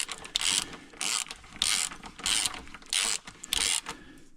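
Ratchet tightening an engine crank until snug, heard as a series of short, close clicking bursts in a steady back-and-forth rhythm.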